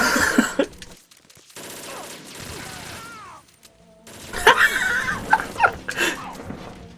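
Bursts of automatic gunfire in Metal Gear Solid 2, with a dense rapid volley at the start and sharper clustered shots later, interrupted by a quieter stretch of mechanical game sounds and a player's voice speaking.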